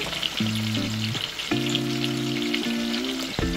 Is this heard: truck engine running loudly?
no